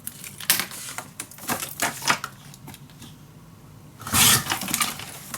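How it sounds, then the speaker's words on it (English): Paper being cut at a marked line for a Halloween mini album, heard as a series of short crisp snips and scrapes close up, ending in a louder burst of rustling near the end, with no talking. "We only have to do is measure this and make a cut at that mark."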